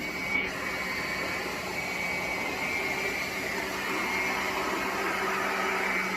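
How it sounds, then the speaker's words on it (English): A hair dryer owned since 2005, used to dry locs after a retwist, runs with a steady, continuous whirring hum at moderate, even loudness throughout, with no talking. "I have had this dryer since I started college in 2005, and it's still pushing, still pushing."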